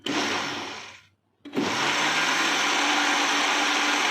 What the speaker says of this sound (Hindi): अब इसको ना इन सारी चीज़ों को ब्लेंड करना है